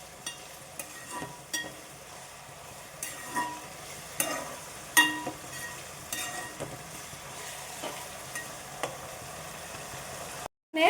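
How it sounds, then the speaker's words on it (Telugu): Tomato pieces fry in a pan for village-style bottle gourd curry, a soft steady sizzle broken by irregular scraping stirs every second or so, close and moderately quiet. "అంతవరకు వీటిని బాగా వేయించుకోవాలి."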